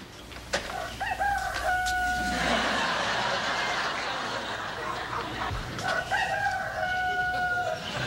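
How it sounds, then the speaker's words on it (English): A relaxation tape of barnyard sounds plays in a sitcom scene. A rooster crows loudly twice, early and again near the end, over a constant farmyard ambience with faint clucking. "Barnyard sounds. Is that supposed to be relaxing?"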